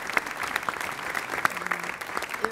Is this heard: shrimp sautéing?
no